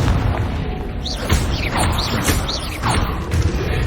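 Confringo spell blasts in Hogwarts Legacy, a series of loud booming explosions and thuds fired in quick succession over a dense, rumbling game soundscape.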